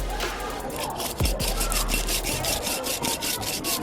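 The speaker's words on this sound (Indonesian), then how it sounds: "siapkan amplas untuk menghaluskan bagian ini tepi-tepi botol ya pemirsa." Sandpaper smoothing the cut edge of a glass bottle being turned into a decorative pot, a close, loud rhythmic rasping of quick back-and-forth strokes that continues without pause.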